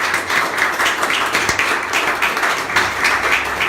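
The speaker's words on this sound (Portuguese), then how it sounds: "Vamos dar uma salva de palmas muito grande para o nosso Senhor Jesus Cristo." A church congregation applauds together, a dense, steady wash of many hands clapping at close range with no pauses, filling the whole stretch without any talk.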